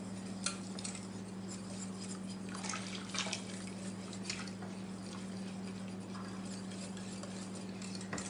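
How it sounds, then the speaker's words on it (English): A whisk stirs brown gravy in a pan in soft, steady scraping and swishing strokes. The sound is faint and continuous over a constant low hum. "Just keep on putting it in and whisking."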